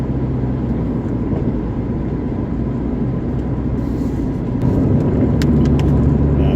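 Roewe 216 with a 1600 automatic gearbox driving along a road, a steady low engine and road drone heard from inside the cabin, growing slightly louder near the end.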